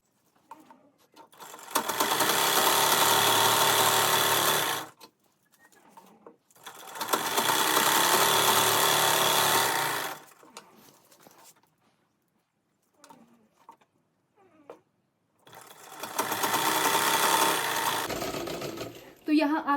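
Sewing machine stitching the leg hem of an embroidered salwar runs in three loud sustained bursts, each a few seconds long, separated by quiet pauses with faint handling noises.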